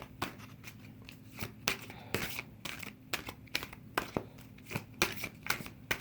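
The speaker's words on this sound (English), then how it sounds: "I'm going to shuffle again." Tarot cards being shuffled up close: repeated papery riffles and soft slaps in an uneven rhythm, with light crinkling between them.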